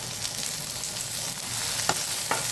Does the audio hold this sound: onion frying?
yes